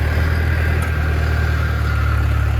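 A Scout TE504 tractor engine runs steadily as the machine pulls away, a loud, constant low diesel drone with a fixed whine above it and no voices.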